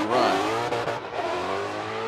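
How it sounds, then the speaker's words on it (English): Ford Mustang drift car on Roush Performance Falcon Tires roaring hard through a Formula Drift qualifying run, a loud continuous engine howl with revving swells and tire noise, close and without talk. "here goes the Roush Performance Falcon Tires Ford Mustang, throwing it down"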